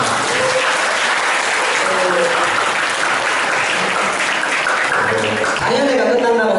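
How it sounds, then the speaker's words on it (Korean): An auditorium audience at a public lecture on irregular workers in Gumi gives loud, sustained applause, a thick wash of clapping with voices and a few murmurs mixed in near the end. "다시 한번 큰 박수 부탁드립니다"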